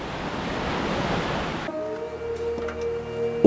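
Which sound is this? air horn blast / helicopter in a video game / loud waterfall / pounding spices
loud waterfall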